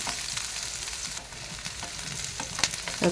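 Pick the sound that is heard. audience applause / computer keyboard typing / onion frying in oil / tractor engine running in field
onion frying in oil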